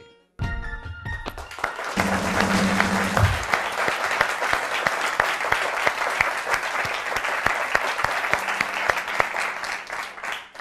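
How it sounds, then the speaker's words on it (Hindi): A large audience at a formal tribute event breaks into sustained, loud applause lasting about ten seconds, with scattered sharp claps over a dense wash, after a brief musical tone at the start. "बहुत सारी तालियों के अंदर बहुत सारी अपनाइयत के साथ, the one and only Javed Iqbal साहब।"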